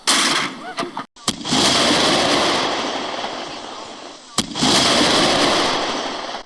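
A volley of gunfire following a shouted command to fire, at a historical reenactment about the 12th Virginia Cavalry Regiment near Charlestown: two loud, close blasts, each ringing out and trailing off, set apart by a short gap, with voices calling around them.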